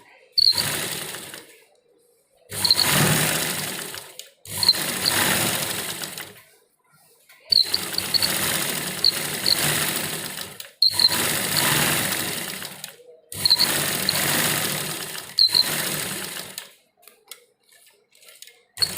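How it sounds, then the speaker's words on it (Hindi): A sewing machine stitching a kurti along a marked line runs in several loud, close bursts of steady whirring, separated by brief silent pauses as the fabric is repositioned. "तो यहाँ से फ्रेंड हम शुरू करेंगे अपनी सिलाई लगानी। जहाँ पर हमारे निशान है वहीं पर सिलाई शुरू करेंगे।"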